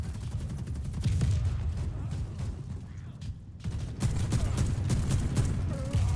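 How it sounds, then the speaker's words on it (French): Bursts of rapid gunfire ring out in a Warface match, firing in dense clusters with a short lull midway before resuming. "je lui mets 3-4 balles et il crève pas"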